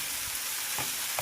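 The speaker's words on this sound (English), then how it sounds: "check out our mushrooms. They are starting to brown." Mushrooms brown in a frying pan with a steady, close sizzling hiss, broken by a couple of soft stirring scrapes; no voices.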